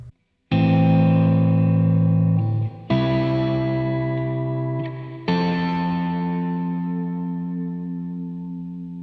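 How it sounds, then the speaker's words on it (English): Three sustained, distorted guitar chords ring out one after another through the stereo reverb of a BOSS RE-202 pedal, each swelling with a wide, lingering reverb tail that slowly decays. "this really nice stereo reverb which is built into this pedal"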